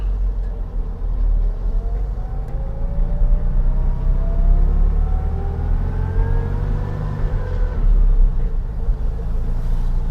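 A 1954 right-hand-drive oval-window VW Beetle with a supercharger drives along, its transmission and supercharger whine rising steadily over a loud, continuous engine rumble, with no talk.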